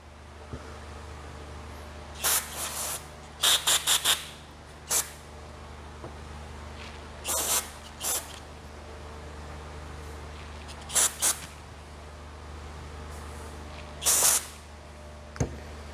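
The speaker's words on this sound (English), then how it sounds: "this will spray brake cleaner back in your eyes" Short hissing aerosol bursts of brake cleaner spray in irregular clusters over a steady background hum, some quick double and triple blasts, each lasting under a second.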